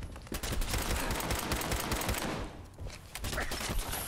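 Rapid automatic gunfire from a firefight in Fallout 4, a dense continuous barrage of shots filling the clip with a brief lull near the middle.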